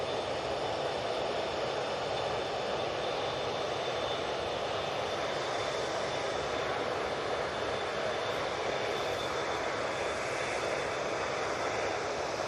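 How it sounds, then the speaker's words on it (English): A propeller aircraft at Manchester Airport making a loud, sustained engine racket, a dense unbroken roar with a thin steady tone riding on top, constant in level from start to finish and free of talk. "what a noise that prop was."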